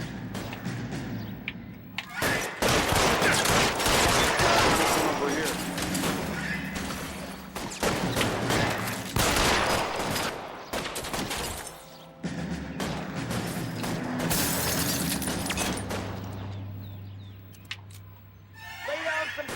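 Gunfire in the PS4 crime game L.A. Noire during a cover-fire shootout, a sustained barrage of loud close shots, crashes and thuds with brief lulls, while voices shout over the fighting.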